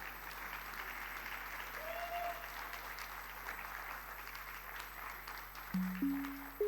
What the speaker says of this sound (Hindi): यहां तालियां बजानी थी।